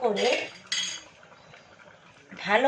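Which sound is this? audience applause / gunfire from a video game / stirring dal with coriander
stirring dal with coriander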